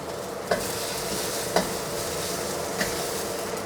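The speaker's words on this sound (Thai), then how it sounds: "เราใส่ผักคะน้าเฉพาะก้านลงไปก่อน" Chinese kale stems sizzle and hiss steadily as they are stir-fried in a wok for a glass noodle dish, with three sharp scrapes of the spatula at roughly even intervals.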